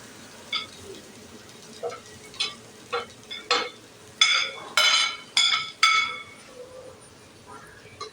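Onions, tomatoes, garlic and ginger sautéing in oil or coconut oil in a pan for a chicken-parts curry, with a run of distinct sizzles and stirring scrapes that grow louder toward the middle before easing off.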